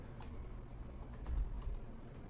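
Someone types a password on a computer keyboard, quiet close key taps in a quick uneven run with no voices.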